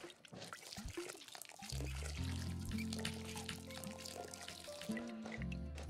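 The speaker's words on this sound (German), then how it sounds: "Ihr habt alle Wasser, ne? Gießen trotzdem mal." A watering can pours over plants and a tree in the video game Garden Witch Life, giving a soft trickling splash under looping background music, faint and continuous.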